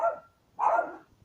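Two distinct dog barks, a short one and then a louder, longer one after a brief pause, moderately close in an otherwise quiet space.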